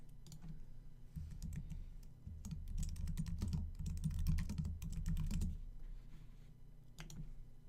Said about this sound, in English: What I'm going to do is start typing